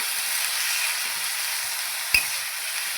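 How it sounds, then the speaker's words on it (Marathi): Potatoes sizzle steadily as they are sautéed in a pan for khichdi, a soft, even frying hiss with one brief sharp clink of a utensil partway through and no talking. "चांगला बटाटा परतून घेणार आहे मी"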